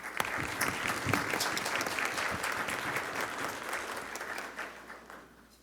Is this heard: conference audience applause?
yes